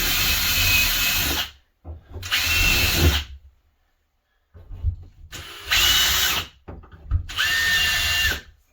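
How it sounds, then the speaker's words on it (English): A power drill with a 1/8-inch bit whirs in four bursts of a second or so each, close up, pre-drilling into a wood stud with short silences between. "just to pre-drill the stud a little ways"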